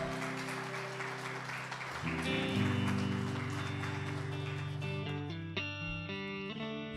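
A church congregation applauds Jesus, a dense wash of clapping mixed under sustained keyboard chords that shift and ring on toward the end.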